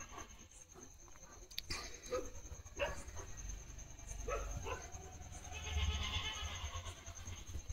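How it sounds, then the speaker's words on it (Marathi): A goat riding on a passing vehicle bleats a few times amid rumbling road and outdoor noise, the calls brief and moderately distant with no talk over them. "शेळी होती ती गाडीवर."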